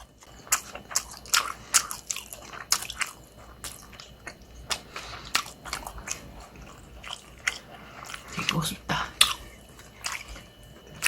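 Close, crisp bites and wet chewing of fried Atka mackerel, a fatty fish from Ayajin on the Gangwon coast, repeating irregularly for about eleven seconds, with faint talk in the background.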